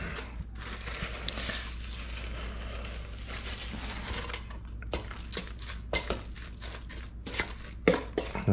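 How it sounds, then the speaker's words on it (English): Cracker crumbs are mixed into a fish and crab cake mixture, giving close, steady scraping and clinking of a utensil against a bowl with quick crunchy taps toward the end. "So we start off by topping it with cracker, mix that in."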